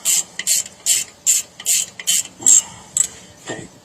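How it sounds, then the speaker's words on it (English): Ratcheting on brake bolts during a brake job on a 1998 Jeep Grand Cherokee, heard as eight or nine close, sharp clicking bursts in a steady rhythm, fading at the end. "And turn these two bolts in."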